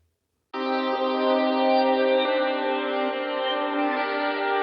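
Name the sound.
reverb effect applied to a chord progression in FL Studio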